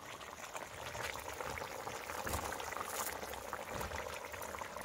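A pot of fish curry bubbles steadily at a rolling boil, with a dense, even gurgling and hiss that stays close and constant throughout.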